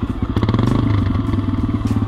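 Trail motorcycle engine running close by with a loud, pulsing idle-to-rev throb in a fast regular rhythm, rough and gruff throughout the short burst.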